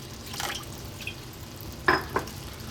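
Water added to a pan of minced meat cooked down in oil and butter: a soft wet splash, then two sharper drips and splashes near the end, close and moderately loud.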